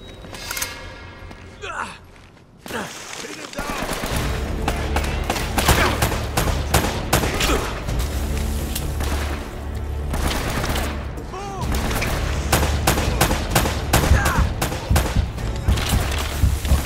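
Gunfire in the Uncharted game's fortress level: rapid, dense bursts of shots and impacts run steadily after a brief quieter opening, mixed with game sound effects and a speaking voice.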